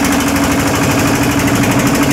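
A boat's motor runs loud and steady, a continuous rumbling drone with a rapid chugging pulse that holds throughout, near and alone without voices.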